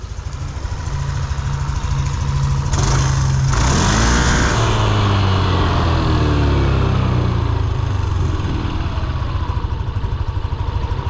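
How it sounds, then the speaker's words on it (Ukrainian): A Yamaha NMax 155 scooter engine idling up close with a steady rumbling putter, then revving briefly and settling back to a low idle. "Ну гарно бурчить, гарно так, така тихенька робота двигунчика"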